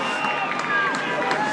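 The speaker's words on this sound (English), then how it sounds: "you can hear the crowd get behind them as they kick their first goal" Crowd cheering after a goal at a local Australian football premier seniors elimination final between Wandin and Mt Evelyn, a steady roar of voices with scattered shouts and whistles, loud and continuous under commentary.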